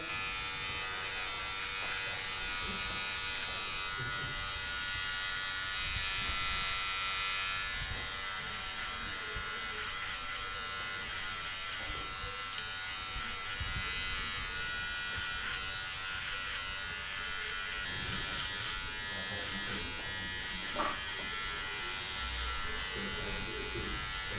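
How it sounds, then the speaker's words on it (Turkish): A Braun MGK7220 beard trimmer runs in a steady, continuous electric buzz throughout, close and even, with faint background sounds around it. "Makine sakal için çok ideal bir makine."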